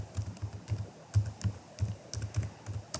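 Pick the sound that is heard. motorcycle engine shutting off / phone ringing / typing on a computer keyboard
typing on a computer keyboard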